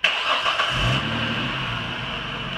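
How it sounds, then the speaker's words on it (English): A car engine cranks and catches, then settles into a steady idle that holds for the remaining seconds, close and clear with no talking. "So now I'm gonna start the car"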